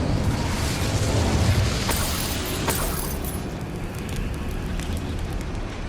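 An Incendio fire spell in Hogwarts Legacy gives a steady roaring, crackling whoosh of flame with a couple of sharp pops, sustained and fairly close throughout.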